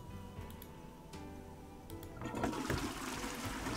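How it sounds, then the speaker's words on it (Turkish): A toilet flush in the puzzle game Tiny Room: Mystery Town starts after a quiet ticking stretch and builds into a rushing gush of water, clear and alone. "Sifonlar da çalışıyor."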